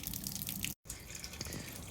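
Hot water draining from a 40-gallon gas water heater, a steady splashing, trickling flow with a brief cut partway through, close and fairly quiet.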